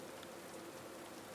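Rain falls steadily in Kingdom Come: Deliverance II, a soft, even wash of drops that stays faint and distant throughout without any break.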